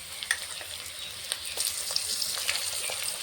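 Garlic paste hitting hot oil with onions already fried red, a steady close sizzle with scattered sharp crackles and pops, no voices.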